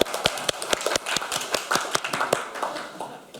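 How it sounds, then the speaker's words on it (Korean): Audience at a labour policy panel discussion clapping, a sparse run of distinct, fairly close hand claps rather than a dense roar, fading slightly toward the end. "박수 한번 쳐주시기 바랍니다"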